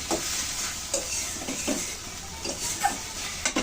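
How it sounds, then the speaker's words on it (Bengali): Fried red amaranth greens are scooped out of a wok, with soft sizzling and several scraping clinks of a spatula against the metal, no voices. "এখন আমি শাক তুলে নিচ্ছি।"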